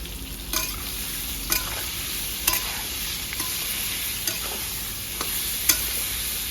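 Eggplant frying lightly in a pan after salt and turmeric are added makes a steady, close hiss, with regular soft clicks of stirring.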